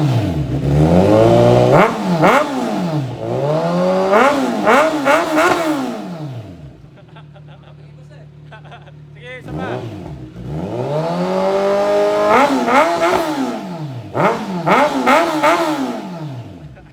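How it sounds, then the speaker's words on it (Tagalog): Kawasaki motorcycle fitted with an aftermarket exhaust, revved hard in repeated loud bursts that rise and fall, with a brief quieter idle stretch between sets of throttle blips, close up. "Rev na natin guys ha."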